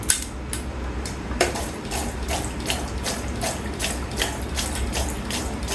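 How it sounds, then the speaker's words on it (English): A Delco Rochester 3-speed wiper motor with four grommets runs a wash cycle, giving a steady mechanical whir with repeated ratcheting clicks every half second or so, close and continuous. "Test number 5, low speed wash, medium speed wash, then to park"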